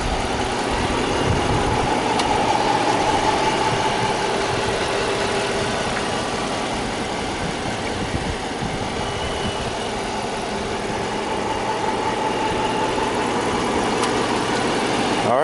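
A 2015 Jeep Grand Cherokee Overland's 5.7-litre V8 Hemi idles under the open hood in a steady, close, loud rumble that holds evenly throughout, with a faint whine on top and no talk.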